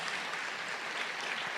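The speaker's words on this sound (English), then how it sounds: "let's give a big round of applause one more time for those Main Street finalist" Audience applause for the Main Street finalist teams at an innovation competition day: a brief, steady wash of many hands clapping at moderate distance, with no voices on top.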